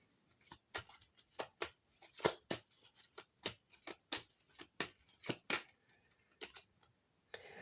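Tarot cards are shuffled and drawn by hand in a series of quiet, crisp ticks and flicks, irregular but fairly rapid, close up with almost no talking.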